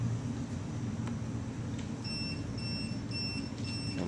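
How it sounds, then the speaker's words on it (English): A home alarm system sounding a fault gives short, high, repeating beeps at a steady rhythm, faint over a low background rumble. "you can hear the alarm system sounding a fault."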